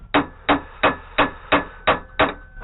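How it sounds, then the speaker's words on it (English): Hammer strikes on soft patch material while fixing a flat tire on a Suzuki GN250 motorcycle, seven sharp, evenly spaced blows at a steady rhythm, close and clear with no talk. "I'll hammer the center as well."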